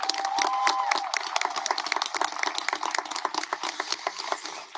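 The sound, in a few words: audience applause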